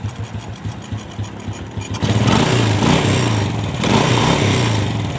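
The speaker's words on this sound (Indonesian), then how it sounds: "bisa sahabat dengarkan si suara karbunya itu sudah sangat rata ya" A motorcycle engine with a freshly adjusted carburetor runs at an even idle, then revs up after a couple of seconds into a louder, steady throttle, close by with a smooth, regular note.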